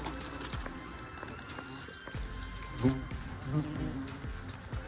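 An Asian hornet buzzes close by near a fruit tree, a steady insect drone over outdoor background noise, with brief louder passes as it moves about.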